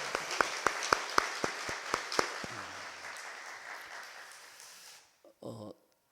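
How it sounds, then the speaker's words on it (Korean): A few sharp claps at first, then a brief swell of applause from a church congregation that fades out, followed by a short moment of voices near the end. "우리 학생들 격려하는 뜻에서 힘차게 박수"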